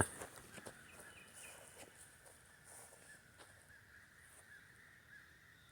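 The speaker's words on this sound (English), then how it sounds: "You hear those birds?" Faint, distant crows cawing a few times over quiet outdoor ambience, with soft rustling and occasional light thuds nearby.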